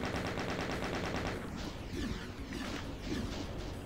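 A chain gun fires in the Doom video game, a rapid, regular stream of shots for over a second, then giving way to dense overlapping game noise of blasts and impacts, loud throughout.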